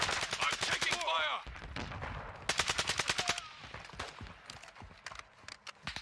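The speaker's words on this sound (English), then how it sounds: "I'm taking fire!" Gunfire in the shooter game Call of Duty DMZ: loud rapid automatic bursts crackle in two main volleys, with fainter scattered shots between them and no one speaking.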